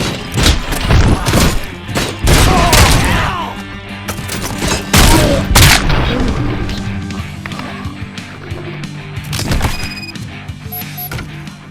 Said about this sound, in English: I hear a bunch of movie guns, and then everyone starts shooting